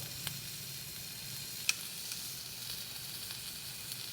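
Stuffed pork loin sears in a hot pan with a faint, steady sizzle and hiss, one tiny pop partway through, heard quietly with no voices.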